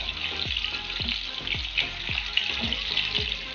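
Reshmi chicken kebabs frying in a pan, a steady close hiss and sizzle of hot oil with soft regular popping throughout, no voices.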